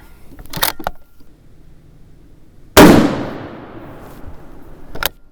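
A 1917 Remington .30-06 rifle fires a single loud, sharp shot with a long decaying echo, set among quieter handling clatter and rustle at an outdoor range.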